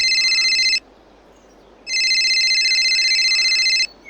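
A telephone rings loudly in Farming Simulator 22, in two long electronic trilling bursts separated by about a second of near silence.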